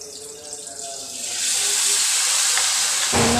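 Onion and garlic paste hits hot oil with toasted cumin and breaks into a loud, close sizzle that builds quickly after a quieter start, with brief clatter near the end.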